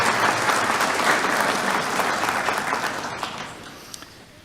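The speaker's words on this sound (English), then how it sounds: "So a big round of applause for being on the world stage." Applause at a city council meeting, a room of people clapping together loudly at first and then gradually thinning and fading out over a few seconds.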